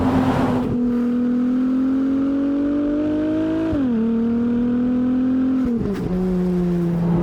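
A Ferrari 296's loud, sustained engine note revs and holds steady, rising slightly in pitch, dipping briefly with each gear change before climbing again.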